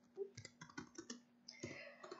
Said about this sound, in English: Notice that I'm typing.